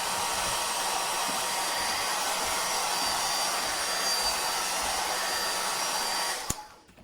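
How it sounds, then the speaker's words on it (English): A hair dryer blows steadily and gently over a wet watercolor painting, a constant close whoosh lasting several seconds before it switches off with a click and winds down. "I'm going to very gently blow that with the hair dryer and let that dry."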